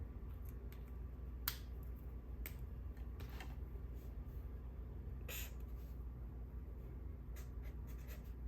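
A magenta pen scratches across planner paper in short, quiet strokes, making soft, sharp scratches spaced unevenly over a hushed room background.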